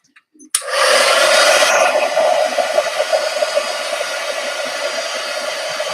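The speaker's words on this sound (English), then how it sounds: "let me get the heat gun out and dry that" A heat gun clicks on and blows a steady, loud rushing hiss while drying a painted journal page. The airflow continues evenly, dipping slightly in strength after the first couple of seconds.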